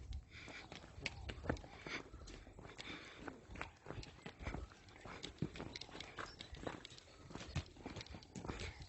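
A horse's hooves clopping steadily along a hiking trail in the Sierra de Huautla biosphere reserve in Mexico, close and continuous with irregular footfalls and outdoor background noise.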